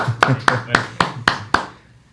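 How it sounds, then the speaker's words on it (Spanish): Six slow, evenly spaced hand claps ring out sharply in a quiet studio to welcome a guest, then fade away; the sparse clapping sounds like only one or two people. "Un aplauso, señores."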